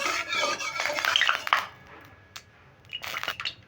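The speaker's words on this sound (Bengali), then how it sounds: "দেখো তেল গরম হয়ে গেছে আমি তেলটাকে একটু ছড়িয়ে নিই" A utensil rubs and scrapes around a metal wok, spreading hot oil in quick strokes, followed by a pause and a few lighter clinks, close by.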